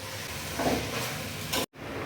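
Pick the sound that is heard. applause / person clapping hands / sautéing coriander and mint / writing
sautéing coriander and mint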